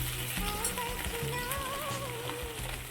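Okra and potato frying in a pan, a steady dense sizzle running throughout with faint scraping stirs, while a voice talks over it.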